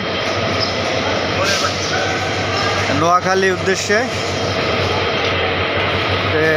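At Kamalapur railway station in Dhaka, a train bound for Noakhali stands with its engine attached, putting out a loud, steady drone amid a crowded platform. A voice speaks over it partway through.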